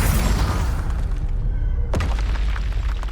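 A Confringo spell explosion in Hogwarts Legacy: a dense, roaring blast that fills the opening with broad rumble, then a sharp, loud burst near the two-second mark and a heavy rumbling tail.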